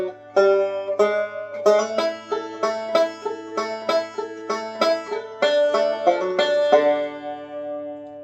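A banjo plays backup on the 4 chord in D for Man of Constant Sorrow: crisp plucked notes in a steady rolling rhythm with a short walk-up near the end, close and clear with no talking.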